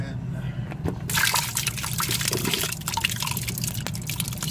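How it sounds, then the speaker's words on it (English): Raw potatoes tipped into a cold water bath, a burst of wet splashing and trickling that starts after a quiet moment and keeps going under someone talking. "we're going to transfer these potatoes to a cold water bin"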